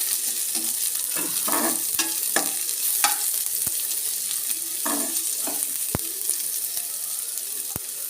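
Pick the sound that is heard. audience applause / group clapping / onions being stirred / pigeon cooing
onions being stirred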